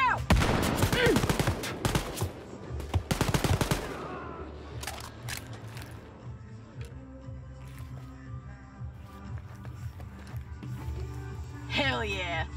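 Heavy automatic gunfire rattles in loud rapid bursts during combat in Wolfenstein: Youngblood, then gives way to a calmer stretch of scattered sharp shots and ambient game noise.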